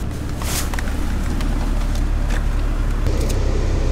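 Honda Civic SiR with a freshly swapped B18C Type R engine, driven on a test run: steady, continuous car engine and road noise from inside the cabin, fairly loud and even throughout with no talking.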